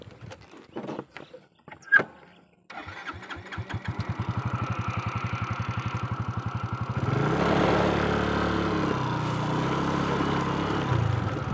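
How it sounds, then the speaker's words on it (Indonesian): A motorcycle kicks into life after a few clicks and starting attempts, then chugs in a steady rhythmic idle before revving up into a continuous louder drone as it rides off, close to the listener. "Kita akan naik motor."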